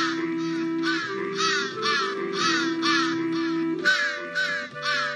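A raven in the video game Santa Claus In Trouble gives a rapid string of about a dozen harsh, evenly spaced caws over steady electronic game music, with no one speaking.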